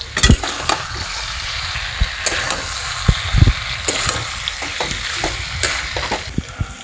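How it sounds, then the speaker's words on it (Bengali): Steady sizzling of potato and pointed gourd curry frying in a pan, with a series of scraping stirs from a spatula cutting through the continuous crackle, close and loud. "একটু নেড়ে নেব।"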